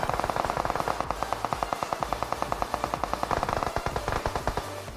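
Gunfire in PUBG Mobile, where an AWM sniper rifle is in play: a rapid, steady stream of sharp shots crackles throughout at moderate loudness, with no speech.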